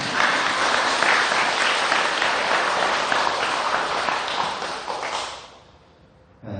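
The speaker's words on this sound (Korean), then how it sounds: "할 때마다 박수 많이 쳐주세요" Loud, dense audience applause at a Buddhist dharma talk, sustained for about five seconds before tapering off quickly into near silence.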